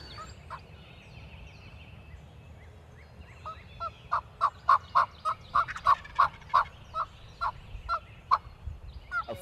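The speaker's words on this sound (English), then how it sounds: "That's a 3-year-old gobbler right there." A three-year-old wild turkey gobbler gobbles in the open, a rapid series of loud, rattling gobbles repeating over several seconds against a faint background of other distant bird calls.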